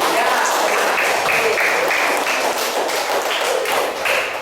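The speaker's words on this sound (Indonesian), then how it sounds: "sekarang kalian kasih tepuk tangan buat Mas Amri." Students in an Indonesian primary classroom clap for a classmate, a dense, steady round of applause that fills the whole moment at close range, with some faint voices mixed in.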